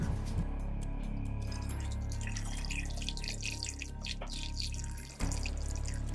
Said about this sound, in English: You have to run it through some type of a fine mesh in order to filter out the impurities that are in it.